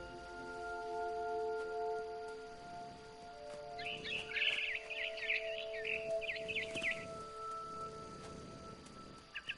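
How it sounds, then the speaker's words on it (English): Barn swallow chirping in a PS4 video game, a burst of bright high twittering calls in the middle of the clip, heard over steady musical tones and a quiet ambient background. "Then I heard chirping outside my window. It was a barn swallow going back to her nest."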